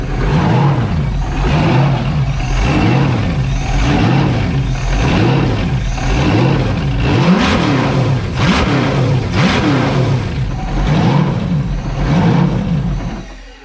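A V8-powered jet ski engine runs on a hose, loud and close, its idle surging up and down in a steady repeating rise-and-fall rhythm with no talk.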